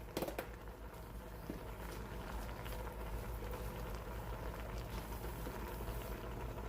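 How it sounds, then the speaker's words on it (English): A pot of oxtails, rice or cabbage boils steadily on a home stove, giving a continuous low bubbling and rolling patter at moderate level, close by, with no talking over it. "we're going to let it boil a little bit"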